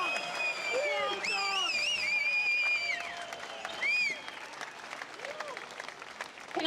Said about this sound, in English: Is that really the best applause that we can give this amazing man?